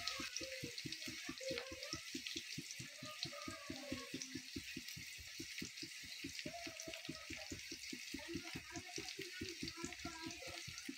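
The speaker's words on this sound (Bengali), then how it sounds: "পেঁয়াজটা একটুখানি ভাজা হোক।" Onions frying in oil for a koi fish curry, a steady close sizzle with rhythmic crackling pops throughout.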